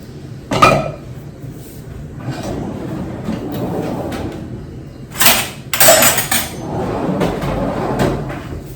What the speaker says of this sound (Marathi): त्या पॅन मध्ये टाकणार आहे डाळ